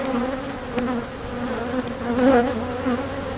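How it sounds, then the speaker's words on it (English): Honey bees buzz around a single brood chamber hive as foragers bring in pollen, a steady close droning hum that swells briefly near the middle and carries on alone. "Some bees bringing in some really nice pollen"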